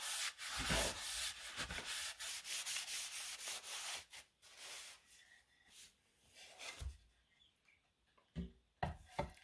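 Cotton cloth buffing excess oil off a wooden surface, a close, steady rubbing and swishing that runs in long strokes, then breaks into shorter, quieter wipes with brief pauses.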